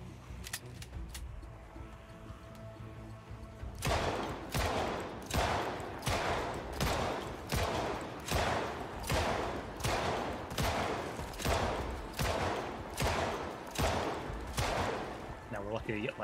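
Gunfire in the zombie survival video game Project Zomboid: after a quieter opening, a steady series of about a dozen loud, evenly spaced shots rings out, with a voice talking over parts of it.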